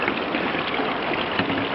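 Water rushes steadily through a high banker sluice used for gold prospecting, a dense, even wash that carries on without a break and without any voices.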